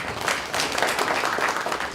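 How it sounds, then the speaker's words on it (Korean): An audience at a Korean policy forum on building a new integrated airport applauds a presenter, giving a dense, continuous patter of clapping from many hands. "큰 박수로 맞아주시면 고맙겠습니다"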